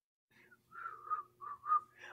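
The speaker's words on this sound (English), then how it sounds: "Why I can't whistle?" Someone attempting to whistle, producing faint breathy, wavering tones in a few short bursts, close and quiet.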